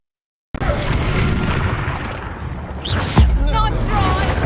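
Spell blast from the Expelliarmus charm in Hogwarts Legacy: a sudden loud booming burst after brief silence, followed by a rumbling tail and a second heavy impact, with voices calling out over it.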